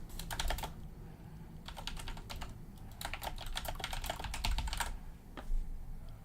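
Computer keyboard typing during an online EverQuest gaming session: quick bursts of clattering keystrokes come in several clusters with short pauses, close and steady, and no one talks.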